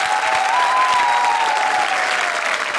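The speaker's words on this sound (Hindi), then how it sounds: "जोरदार तालियां हरभजन सिंह के लिए" Audience applause for cricketer Harbhajan Singh on a comedy TV show set, a dense, steady roar of clapping held at full strength for about three seconds, with a faint sustained musical tone running underneath.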